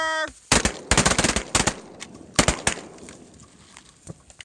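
Shotgun blasts from bird hunters on Devil's Lake, a quick volley of sharp, loud close shots followed by a few more scattered reports fading into outdoor ambience.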